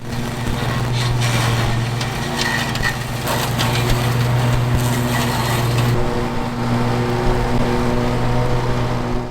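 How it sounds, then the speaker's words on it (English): A lawn mower engine drones steadily and loud, close by, while it cuts down grass and sagebrush, with a constant hum and occasional rougher crunching bursts as the blade hits the brush. "quality time with his mower, getting rid of the grass and the sagebrush"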